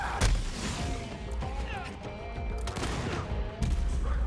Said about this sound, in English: Who the fuck was shooting me?